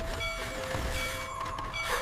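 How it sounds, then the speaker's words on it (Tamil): Cartoon train travelling among the stars, a steady rolling rumble with faint high whistle-like tones drifting over it, continuous and moderately loud, with no talk. "மீனாவுக்கு ரயில் நட்சத்திரங்களுக்குள் பயணம் செய்தது"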